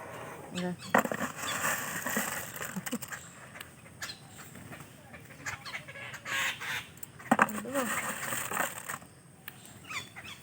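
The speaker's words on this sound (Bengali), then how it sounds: "দেখো পাখির ডাক নিশ্চয়ই শুনতে পাচ্ছ" Birds gathering in a yard in the morning for feed call out in irregular, honking bursts at close range, mixed with a person talking.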